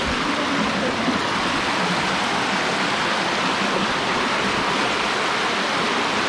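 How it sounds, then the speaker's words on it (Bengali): Napittachora waterfall on a forest trail sends down a steady, dense roar of rushing water, loud and unbroken throughout with no talking. "আমরা কি ঝর্ণার কাছে চলে আসছি"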